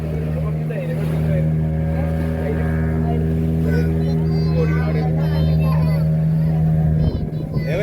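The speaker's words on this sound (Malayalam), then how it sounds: "വള്ളം പോണ" A motorboat's engine drones loud and steady at close range on the sea off Dolphin Point in Goa, holding a low hum throughout, with voices talking over it.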